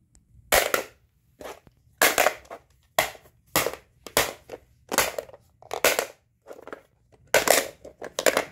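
A plastic tool bit case latch snaps shut over and over, a dozen or so crisp, close clicks in an uneven rhythm with short silences between them and no talking.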